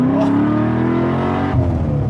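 An LS-swapped Porsche 911 with a custom exhaust revs hard on a test drive, a loud, continuous engine roar that holds high and then shifts pitch slightly near the end.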